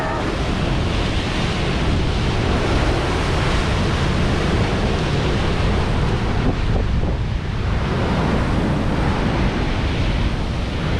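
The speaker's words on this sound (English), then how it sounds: "You can see the waves really building up here." Ocean waves surge and crash steadily into a rocky cove at Prussia Cove in Cornwall, a loud, continuous roar of surf with wind buffeting the microphone throughout, no speech.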